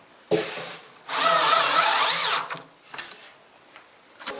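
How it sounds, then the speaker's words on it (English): A power drill drives 1-inch panhead screws while securing a workshop cabinet, with a short buzz, then a steady two-second whine, followed by a few faint clicks and taps. "And now I'm just securing it with some 1-inch panhead screws."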